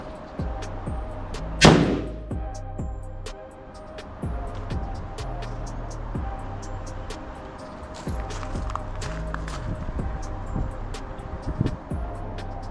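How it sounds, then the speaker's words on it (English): Bear Creek Arsenal BC-15 rifle firing its first shots outdoors: one sharp loud report near the start, followed by a long stretch of rumbling background noise and scattered faint knocks and clicks. "We're gonna be letting off the first shots from this BC-15"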